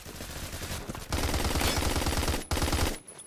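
Rapid automatic gunfire in the shooter game Phantom Forces, loud and close, with dense bursts of shots that break off briefly near the one-second mark and again near the end.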